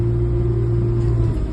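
Caterpillar 303.5 Next Gen mini excavator with stick steer controls, its diesel engine running at a steady low idle with a continuous deep rumble and hum, close and alone without talk.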